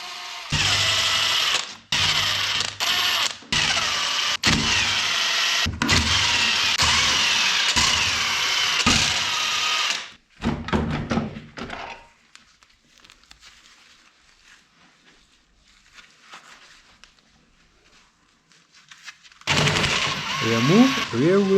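Workshop disassembly of a Mazda-based Ford M5OD manual gearbox, removing the shift housing: loud bursts of power tool whirring and rattling, then quieter clinks of metal parts and handling, with a final loud tool burst.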